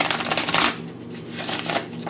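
A quick burst of card shuffling, a crisp riffling flutter up close, followed by quieter rustling and a second faint riffle.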